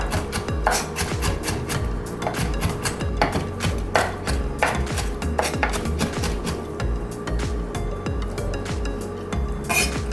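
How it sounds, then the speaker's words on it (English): Knife finely chopping pickles for burger sauce on a cutting board, rapid irregular taps and clicks with occasional clinks, close and steady throughout. "I'm gonna chop some pickles over there."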